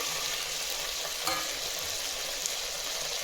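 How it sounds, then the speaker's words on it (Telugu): Chopped tomatoes and green chillies fry in a pan for chicken biryani, giving a dense, steady sizzle up close, with a couple of faint scrape or stir clicks and no talking. "యాడ్ చేసుకొని టమాటా మెత్తగా అయ్యేంత వరకు ఫ్రై చేసుకుంటాము"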